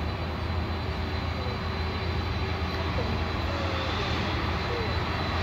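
An airplane at Narita Airport produces a constant, broad engine roar that holds steady throughout, while people chat in Japanese nearby.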